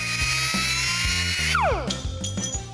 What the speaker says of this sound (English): Next, we'll cut all the waste away with a cutoff wheel.